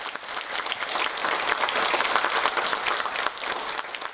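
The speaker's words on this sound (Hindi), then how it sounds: "और आप अगर तालियां बजा दें तो बड़ा अच्छा लगेगा।" A seated audience at a motivational talk breaks into steady, dense applause, many hands clapping continuously at fairly loud volume for the whole stretch with no voices over it.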